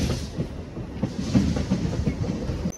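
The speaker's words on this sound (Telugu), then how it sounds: "వీరవాసరం ప్లాట్ఫామ్ నెంబర్ 2కి అయితే వచ్చింది మన ట్రైన్." The Nidadavolu–Narasapur MEMU rolls into Veeravasaram station's platform 2, wheels clattering in a steady rhythmic clickety-clack at close range and moderately loud, with no one talking.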